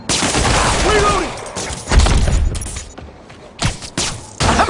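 Bursts of gunfire in Marvel's Spider-Man Remastered, several sharp shots and rapid volleys with thuds spread across the moment, loud and close amid game action.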